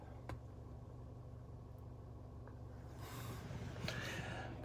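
A car engine runs steadily at idle, a low continuous hum close by, with some brief thumps and a broader rise of noise near the end.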